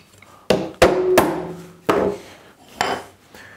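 A holdfast is knocked down to secure a wooden case on a workbench, giving a few sharp, uneven wooden knocks with a brief metallic ring, close up and without speech.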